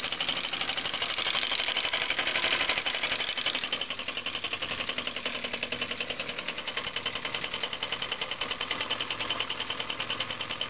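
A small homemade engine runs fast on compressed air, giving a rapid, even mechanical clatter that holds steady for several seconds at moderate loudness, with no speech.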